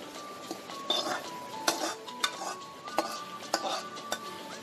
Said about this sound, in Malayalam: നന്നായി ഇളക്കി ഇളക്കി ചൂടാറ്റി എടുക്കണം.